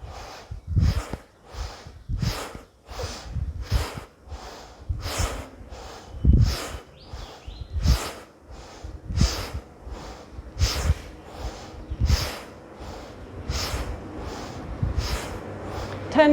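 Active yoga breathing exercise in a group class, a rapid, rhythmic run of forceful nasal exhalations, roughly two per second, close and loud, continuing steadily throughout.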